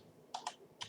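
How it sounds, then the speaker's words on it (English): A few quick soft keystrokes on a computer keyboard, two clicks close together then two more after a pause, faint and near. "and then you type"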